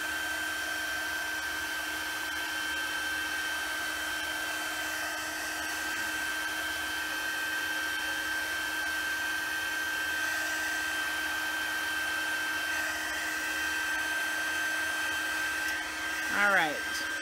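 A heat tool blows steadily from behind a paper card coloured with Brusho under a stencil, drying it and easing the curl in a constant close whir that stays level throughout, with a brief whine near the end.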